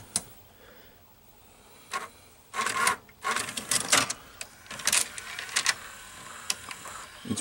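VCR tape-loading motor running inside a Samsung or Panasonic VCR, heard as quiet whirring with bursts of mechanical clicking, ticking and gear chatter, close up and with no speech.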